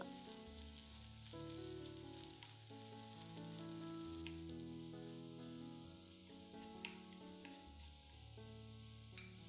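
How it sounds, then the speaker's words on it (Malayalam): Chopped ginger and garlic sauté in hot oil for moru kachiyathu, a soft, steady sizzle with occasional crackles beneath gentle background music. "അരിഞ്ഞു വെച്ചിരിക്കുന്ന ഇഞ്ചി, വെളുത്തുള്ളി ഇത് ചേർത്ത് ചെറുതായിട്ട് മൂപ്പിക്കുക"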